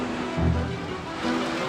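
The River Bollin flows steadily beside an old water-powered factory, giving a broad, continuous rushing wash of moving water, fairly close and even, with no voices.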